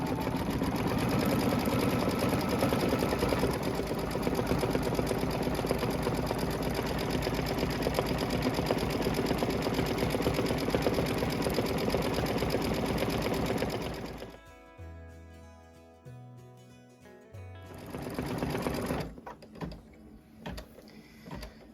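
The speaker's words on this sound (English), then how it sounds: "now it's going to do the satin stitch on the roof" An embroidery sewing machine runs a satin stitch along the roof line of a house design in champagne thread, a fast, even mechanical chatter for about fourteen seconds, then pausing and briefly resuming.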